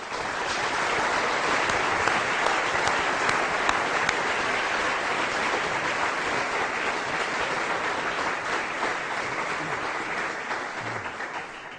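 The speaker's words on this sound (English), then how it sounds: "can I invite you to give him a very warm round of applause for this" A lecture-hall audience at the London School of Economics gives a sustained, dense round of applause, loud and even from start to finish with no talk over it.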